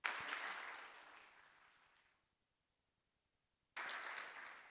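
Audience applause at a European Greens conference, a burst of clapping that fades out over about two seconds, then after a short silence a fresh round starts abruptly, moderately distant in a hall.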